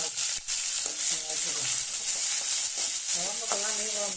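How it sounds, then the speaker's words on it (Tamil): Curry leaves and small shallots fry in hot oil for a Tamil fish curry, giving a loud, steady close-up sizzle with occasional stirring clinks, and a voice talks intermittently over it. "நல்லா பொரியட்டும் கருவேப்பிலை வெங்காயம் போட்டுக்கிறோம்"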